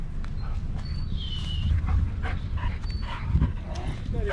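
Several dogs, one of them a husky, play outdoors, with scuffling, rustling and faint yips and whimpers under continuous low noise.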